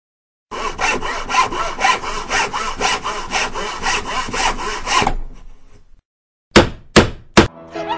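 Wood being sawn by hand, a steady run of back-and-forth strokes for about four seconds, then a pause and a few sharp separate strokes, close and loud with no talk.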